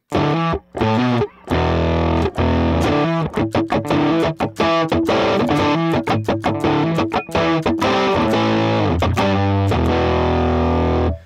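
A heavily distorted electric guitar through an Avid Eleven Rack amp modeler set to a Marshall Plexi model plays choppy, chugging chords and riffs with sharp stops between bursts, loud and dry, with no voices.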